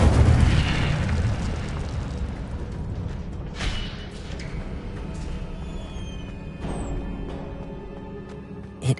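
Booming fire-spell blasts in the Hogwarts Legacy video game, a dense loud rumble with several bursts and crackles, ending in a sharp pop, no talking.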